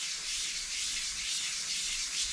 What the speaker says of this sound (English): it sounds like I'm going over it with fine grit sandpaper